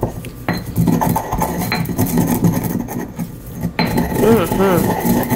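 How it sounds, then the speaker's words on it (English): Whole black peppercorns being ground for a ribeye steak, a close gritty rasp and clatter of metal and utensils with irregular scraping rubs, a voice faintly present at times. "I'm going to start by grinding up the peppercorns"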